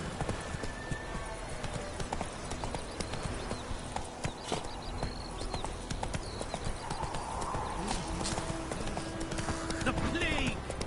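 Galloping horse hooves in The Witcher 3 video game, a steady rhythmic clip-clop running throughout beneath game speech, ambient sounds and an occasional whinny.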